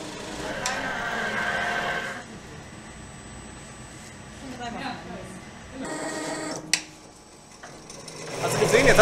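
A quilting machine being modified stitches a quilt in two mechanical whirring bursts, one at the start and one near the end, with people talking in between and over it.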